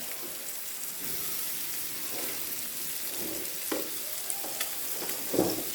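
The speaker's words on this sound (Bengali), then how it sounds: "এক সাইড মাছে ভাজা হয়ে গেছে, অপর সাইডটা উল্টোই দিন।" Small mola fish and prawns fry in a pan after being flipped, giving a steady hiss of hot oil with a few soft scrapes and clinks of a spatula near the end.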